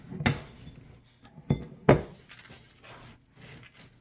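Big bowls handled in a home kitchen during granola prep, with a few close knocks and clinks of dishes set down in uneven succession, then softer shuffling.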